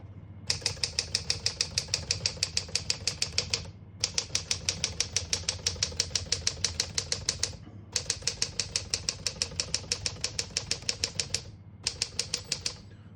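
Steady, rapid clacking of keys on a 1953 Smith-Corona Silent-Super portable typewriter strikes in long runs, broken by a few short pauses, close and crisp with a faint mechanical hum underneath.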